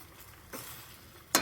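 Frozen mixed vegetables and beef sizzle quietly in a pan during stir-frying. Two brief scraping bursts of stirring cut through a soft, steady frying hiss.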